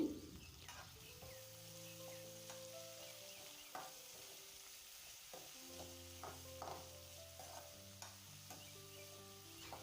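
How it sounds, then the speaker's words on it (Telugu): Green chillies, onions and curry leaves frying in oil in a kadai for vangi bath, a quiet continuous sizzle broken by intermittent stirring scrapes, with some faint tonal background sounds. "అలాగే సాసులు పచ్చిమిర్చి ఎర్రగడ్డలు కరివేపాకు వేసి బాగా వేయించుకోవాలి"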